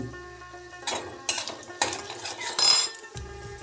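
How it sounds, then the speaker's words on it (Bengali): Chana dal tempering being stirred on low heat: a spoon scrapes and clinks against the pan in four or five short bursts over a faint, soft sizzle, close by with no talking. "হাফ চামচ দিচ্ছি ছোলার ডাল লো হিটে একটু নেড়ে নেব"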